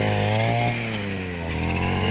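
A grass cutter runs steadily in a string bean field, its small two-stroke engine giving a loud, continuous, close buzzing drone with a slight dip in pitch partway through, and no talking over it.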